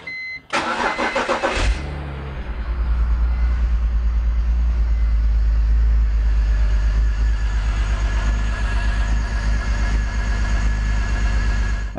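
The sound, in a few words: BMW E46 engine misfiring after starting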